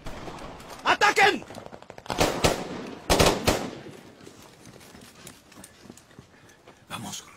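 Gunshots in a Spanish-language action film come as several loud, close bursts of sharp cracks with short gaps between them, amid shouting and commotion.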